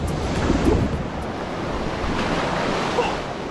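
Black Sea waves break steadily on Mamaia beach in Romania, a continuous wash of surf mixed with strong wind buffeting the microphone. The roar is loud and close, with one heavier swell near the start.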